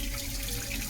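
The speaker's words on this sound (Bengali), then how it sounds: "আর এক বালতি জল ভরে নিচ্ছি" Water runs steadily from a tap into a bucket, a continuous close hiss with no talk over it.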